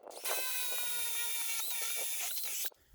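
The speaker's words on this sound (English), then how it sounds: "I need to put the drill right about there" A power drill bores a hole for a gate hinge, giving one steady high-pitched whine for about two and a half seconds that wavers slightly under load before cutting off abruptly.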